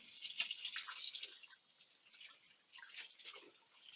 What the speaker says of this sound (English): Just rinsing off all my tools.